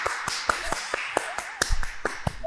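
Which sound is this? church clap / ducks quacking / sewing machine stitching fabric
church clap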